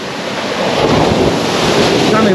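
Sea surf rolling onto a beach at Withernsea on the English east coast, a loud continuous wash of waves mixed with buffeting wind noise on the microphone, no voices.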